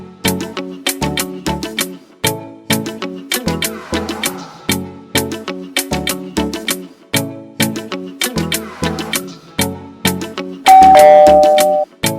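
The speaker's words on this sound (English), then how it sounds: "you could just ring the doorbell" A doorbell chimes over and over in quick repeated ding-dong tones, loud and close, ringing in a steady insistent rhythm with a brief sustained tone near the end.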